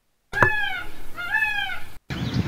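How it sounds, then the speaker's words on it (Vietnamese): A peacock gives two drawn-out, wailing calls with a slight cat-like rise and fall, loud and fairly close, separated by a short gap, followed by a brief burst of a different rustling sound. "Peacock."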